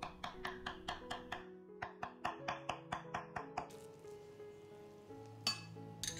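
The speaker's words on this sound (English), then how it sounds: "Flip and fold the meat over and continue to chop from one side to the other" A cleaver chops pork into mince on a board with steady, evenly spaced sharp knocks, a short pause, then another rapid run of chops before softer scraping and shuffling noises close it out.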